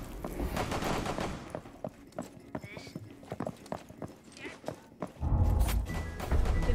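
Rapid gunfire bursts crackle in a chaotic teddy bear shooter game, mixed with clip-clop-like hits and game effects, while players talk over the action and a loud burst swells near the end.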